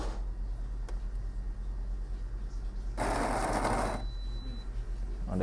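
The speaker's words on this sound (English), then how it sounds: "Okay, I'll long press here and I grind." Coffee machine grinder grinding beans in one loud, steady whir lasting about a second, set against a constant low mechanical hum.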